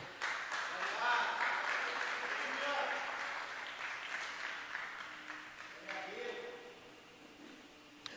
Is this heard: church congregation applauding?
yes